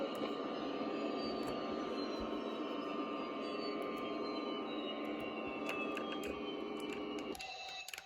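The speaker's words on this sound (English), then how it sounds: "Engine 1 cut. Engine number 2 cut." JetBlue Airbus A321 jet engines running at the gate at New York LaGuardia, a loud steady whine with slowly falling tones that cuts off near the end as the engines shut down.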